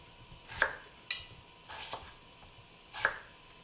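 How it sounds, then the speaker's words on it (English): A knife cuts halved potatoes into small cubes on a board, making four or five distinct, sparse taps and thuds at irregular intervals, close and fairly quiet. "I'm going to take each potato, half and kind of turn it over so I'm able to then cut it into cubes easier."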